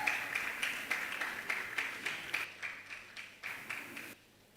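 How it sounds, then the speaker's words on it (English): An audience at a stage event applauds as a presenter comes on, a steady patter of clapping in rhythmic bursts that fades out at the end. "A round of applause for her as she comes on"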